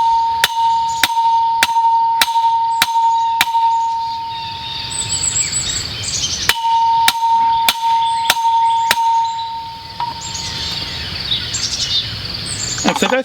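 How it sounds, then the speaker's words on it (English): A sledgehammer drives a wooden post for a garden trellis into the ground, landing sharp, evenly spaced metallic strikes in two bursts of six or seven blows with a short pause between, while birds chirp outdoors in the background. "I'm going to take my bigger sledgehammer and finish pounding that in."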